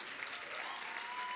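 Audience applause for a university Vice Chancellor at a campus dialogue event, a steady wash of clapping throughout at a fairly quiet, distant level.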